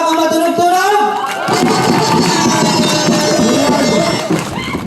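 A crowd at a barangay campaign event cheers and shouts, with mixed voices and a tonal sound over the first second, then a busy layer of crowd noise, loud and close throughout.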